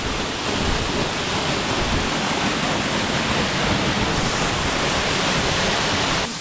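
Waterfall in the Belca valley of the Karavanke mountains, a steady, dense roar of falling water, broad and continuous throughout without pause, with no voices.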